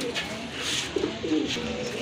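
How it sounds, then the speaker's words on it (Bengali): Indian Lotan pigeons give a few soft, low coos close by in a quiet setting, with two short cooing phrases near the middle. "আরেক জোড়া কবুতর, লোটন কবুতর, ইন্ডিয়ান না ভাই?"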